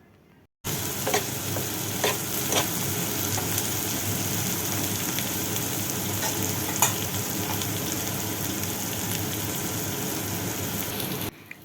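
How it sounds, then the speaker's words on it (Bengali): Soaked fried peas sizzle and crackle in a hot pan while being stirred for a pasta dish, a loud steady frying hiss that starts abruptly and runs throughout, with occasional scraping clicks. "মটরটা দেওয়ার পরে একটু নাড়াচাড়া করে তারপরে পরিমাণ মতো একটু লবণ দিয়ে দেব।"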